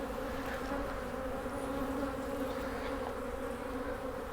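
Honeybees hum steadily in an opened hive during a check after a second hard freeze, a dense, continuous buzz holding close and even throughout with no other sound over it.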